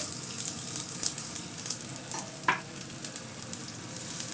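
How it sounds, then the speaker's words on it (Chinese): Onion and garlic frying in hot peanut oil, a close, steady crackling sizzle with light stirring clicks and a brief sharper pop midway, no speech. "油热的时候加入洋葱和大蒜一点点"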